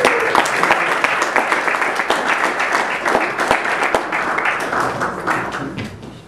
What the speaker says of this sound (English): Please, round of applause for Ramon Martinez Sanchez